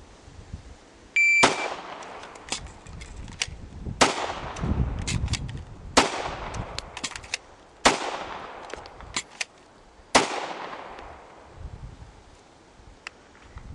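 Six sharp gunshots fired at a target on a shooting range, spaced roughly two seconds apart, each a crisp crack with a short decaying tail, fairly close and alone without talk.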